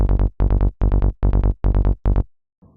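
Psytrance bass from an Ana2 synth with kick and drums muted: seven short bursts of fast rolling triple-pulsed low notes, loud and dry, separated by brief gaps and ending in silence.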